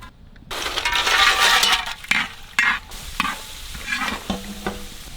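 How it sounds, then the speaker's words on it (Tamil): Cashews and raisins fry in hot oil with a loud, crackling sizzle, followed by stirring taps, scrapes and clinks against the pan as the frying settles to a quieter hiss. "முந்திரியும் திராட்சையும் பொரிச்சு எடுத்துக்கலாம்."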